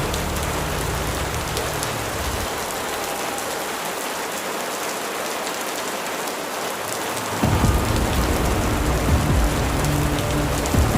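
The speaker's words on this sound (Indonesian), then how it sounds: "berlari di tengah hujan deras yang mengguyur badan kecilnya" Heavy rain pours down in a dense, continuous hiss, close and loud, with low rumbling that thickens toward the end.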